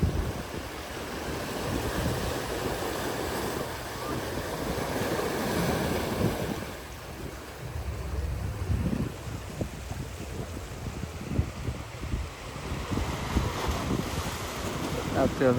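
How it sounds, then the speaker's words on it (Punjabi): Steady sea waves break and wash along a Greek shoreline while wind buffets the microphone, a continuous roaring surf that dips briefly before swelling again. "ਅਸੀਂ ਸਮੁੰਦਰ ਦੇ ਕੋਲੇ ਆ ਜਾ ਗਏ।"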